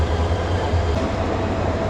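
A train stands at Kamalapur railway station in Dhaka before an overnight run to Sylhet, giving off a steady, loud low rumble of idling rail cars with a broad wash of station noise and no speech.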